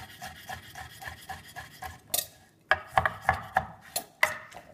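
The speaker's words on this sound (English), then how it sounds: "I'm chopping the turtle meat to put in the soup in little pieces" Turtle meat is chopped into small pieces for soup with a knife on a cutting board: a run of quick, crisp thuds, then a brief scrape and several louder, spaced chops, close and clear with no speech.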